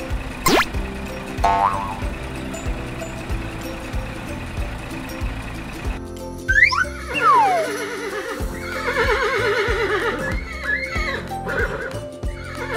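Horse whinnies in a 3D farm cartoon with animal trucks, loud descending neighs over a busy backdrop of music, cartoon boings and clip-clop effects, with several squealing calls across the later seconds.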